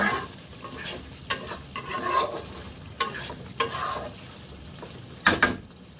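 Mutton curry stirred and fried in a pan: a low sizzle runs throughout while a spoon scrapes and knocks against the metal in sharp, irregular strokes, with a couple of louder clacks near the end and no talking.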